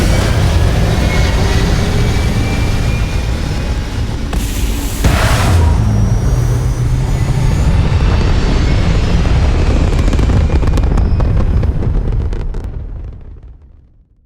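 A spaceship lifts off in the video game Starfield with a loud, sustained rocket roar and rumbling thrust that holds steady for several seconds before fading out at the end.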